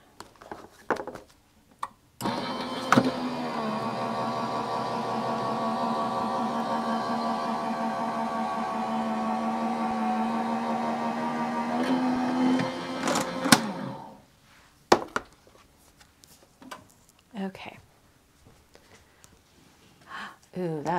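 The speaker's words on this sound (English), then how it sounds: "All right, back into the die cutting machine." A die cutting machine runs steadily for about eleven seconds with a continuous mechanical hum and rolling drone, then stops; faint handling noises and brief sounds follow.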